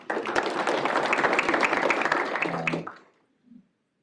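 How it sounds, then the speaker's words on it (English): A crowd claps steadily for a few seconds at a Pennsylvania state legislative campaign event, then the applause fades out into silence. "A round of applause for them"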